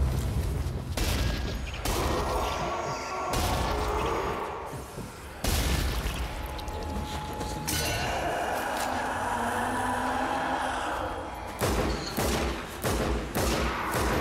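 Pistol fire in the zombie shooter Sniper Elite: Nazi Zombie Army, several loud cracking shots scattered through the stretch, the last ones in a quick cluster, amid rumbling game ambience and mechanical noise.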